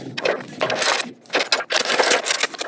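Bolts on a catalytic converter guard are tightened down, giving bursts of close, loud ratcheting and metallic working noise in several uneven runs separated by short pauses.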